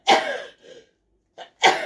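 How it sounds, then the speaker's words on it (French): A person sneezes, with a sharp burst and short breathy build-ups and trailing sounds around it, close and fairly loud, no talking. "Ah, je vais éternuer."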